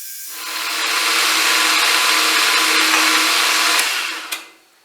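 Machine cutting a metal valve linkage part mounted on a rotary table: a loud, steady, high-pitched grinding whine that starts abruptly, holds for about four seconds, then spins down, close and alone.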